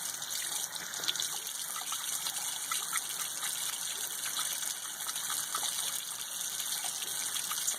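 Running water gushes and trickles steadily over a handmade lard soap bar as it is worked into lather, a close, continuous splash with small irregular drips and no voices.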